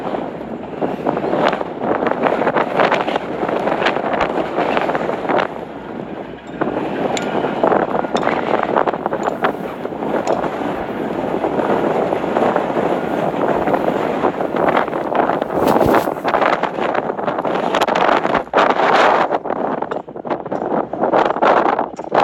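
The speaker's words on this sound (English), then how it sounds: "It's so windy up here, guys, that the wind's probably blowing at like 75 miles an hour" Strong wind gusting across an exposed hilltop at a border wall monument, a loud, steady broadband roar with buffeting bursts battering the microphone throughout, no voices over it.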